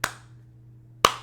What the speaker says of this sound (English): Agatha slow clapping like a demon